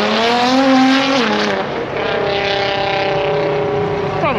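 A stock Nissan GT-R R35 accelerates hard with a loud, rising engine note that drops briefly at a gear change and then climbs again, heard close and sustained.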